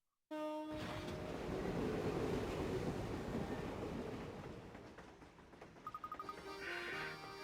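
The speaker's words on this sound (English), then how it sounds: "Finally, we get the fucking train moving again." A train in the video game Professor Layton and Pandora's Box rumbles into motion after a sudden start, a loud continuous rolling roar that eases slightly, then rhythmic clacks and a brief higher whistle-like tone near the end.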